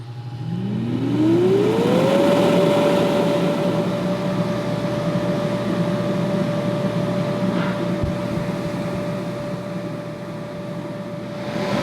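An inflatable bounce house blower switches on and spins up over a couple of seconds to a steady whining drone with a constant tone, then keeps running loud and unbroken.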